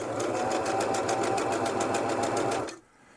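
Close, steady, rapid machine stitching from a sewing machine sewing a box pattern on a DIY cinch strap, running evenly for almost three seconds before stopping abruptly.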